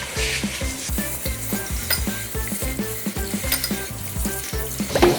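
A pot of pork bones for gamjatang comes to a boil with a soft, steady bubbling and seething, faint and continuous, under a quiet rhythmic background.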